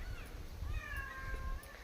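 A cat meows softly a couple of times close by in a quiet village home setting, the drawn-out cries faint against a low background rumble.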